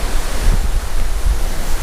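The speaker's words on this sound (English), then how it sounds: "right now it's blowing like a solid 25 to 30 out of the straight northeast" Strong northeast wind of about 25 to 30 knots over the Indian River, buffeting the microphone as a loud, steady, roaring rumble with no talking.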